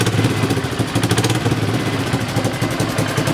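Polaris ATV engine idling close by after a timing adjustment, with a loud, steady, even putter and a light mechanical clatter running without break.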